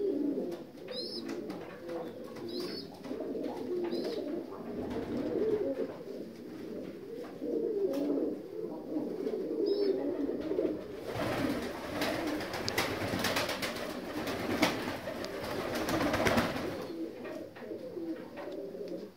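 Pigeons, North Caucasian tumbler pigeons including young birds, coo steadily in low, rolling murmurs, with a few higher chirps early on and a burst of rustling or flapping midway.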